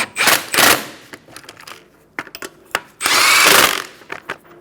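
A power tool, likely an impact wrench, tightens the wheel lug nuts on a 2014-2019 Kia Soul in short buzzing bursts, two longer rattling runs and several brief taps in between, close and loud.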